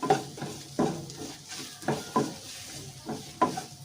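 Spices and black pepper being stirred into roasted flour in a pan, a rhythmic series of scraping spoon strokes about every half second, fairly close and clear, no voices.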